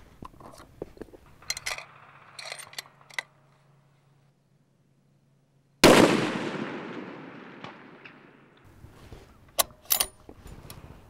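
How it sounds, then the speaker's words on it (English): A rifle fires one loud, sharp shot at a 600-yard range, and a long decaying echo rolls away after it, preceded and followed by faint clicks and handling noises. "Today, I'm going to be shooting at 600 yards"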